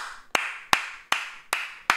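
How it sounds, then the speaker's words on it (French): A single pair of hands claps five times at a slow, even pace, with each clap sharp, close and standing clearly apart in an otherwise quiet setting. "Franchement, j'applaudis"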